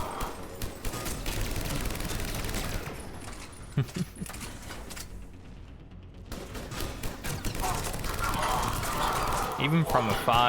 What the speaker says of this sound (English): Might be the best assault rifle in Mass Effect that I've played with so far.